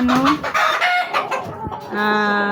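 A Boston Sweater rooster and hens in a backyard breeding pen cluck and call loudly up close, with short bursts of clucking and a clear crow-like call at the start and end.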